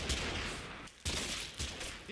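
Gunfire in the war game Combat Mission Fortress Italy during a fight over buildings: dense overlapping bursts of shots with a brief lull in the middle, loud and sustained.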